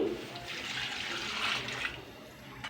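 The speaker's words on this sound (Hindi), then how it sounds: "1 किलो हमारे चावल थे, 2 किलो पानी ऐड करेंगे" Water poured in a steady stream into a pot of mutton yakhni pulao with rice, a continuous splashing rush running nearly three seconds at close range with no talk.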